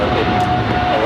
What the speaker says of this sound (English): There's the Emirates making its way over to Tom Bradley